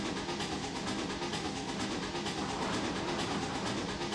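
A C&O train engine in the Trainz 2022 rail simulator on the Hinton line, running with a steady, broadband rumble and rhythmic clatter that holds at an even, moderate level without pause.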